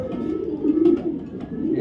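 White racer pigeons cooing in a steady low murmur, close by and fairly loud, with faint background noise throughout.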